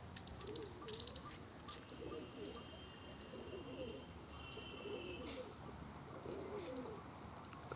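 Caged pigeons, including Kalla Kalpara birds, give faint, repeated low coos with occasional small chirps over a quiet outdoor background.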